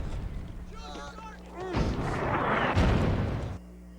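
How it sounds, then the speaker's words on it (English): German artillery fire in a World War II drama, a heavy rumbling blast that swells and roars for a couple of seconds amid shouting voices. "It's German artillery!"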